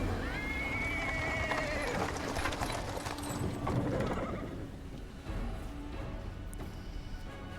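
A small horse pulls a cart over paved stone in the Pathfinder: Wrath of the Righteous video game, whinnying amid clip-clopping hooves and rolling wheels in a busy, continuous mix, with faint voices underneath.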